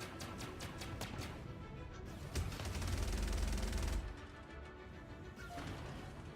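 Ballistic cannons fire in Star Citizen during a ship dogfight against an Aurora, as a rapid train of close, punchy shots. The shots merge into a heavier rumbling barrage midway, then ease into a steady drone.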